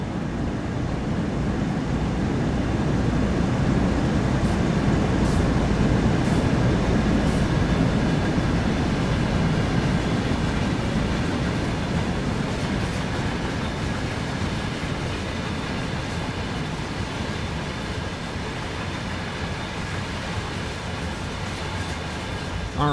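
A train rolls steadily along rails in Train Sim World 5. The low rumble is constant and dense, with faint intermittent clicks over it, and it carries on without pause for the whole stretch. No voices.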